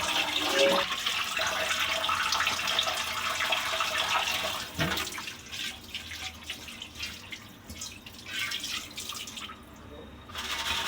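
Tap water runs steadily while fish is rinsed clean in a home kitchen, a fairly loud continuous splash that eases and becomes more broken partway through.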